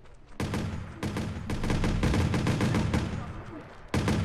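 Rapid gunfire in the video game Watch Dogs, bursts of close, loud shots firing in quick succession over a sustained stretch, with a pause near the end before another burst.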